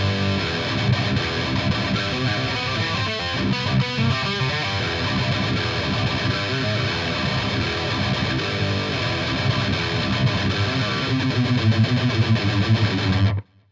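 A heavily distorted electric guitar plays a riff slowly and continuously at steady loudness, with dense chugging notes throughout and no voices.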